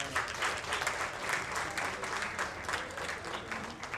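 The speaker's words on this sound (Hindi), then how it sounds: "आप इनका इस्तकबाल करिए जोरदार तालियों के साथ" Steady, loud clapping from an audience at an album launch event, sustained applause continuing throughout without pause.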